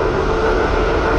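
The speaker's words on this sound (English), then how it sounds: "now the aircraft is going to clean up and accelerate and turn out there to the west and come back in for a low pass" A C-17 jet transport aircraft accelerates after takeoff at March Air Reserve Base, giving a loud, steady, continuous engine roar heard from the ground.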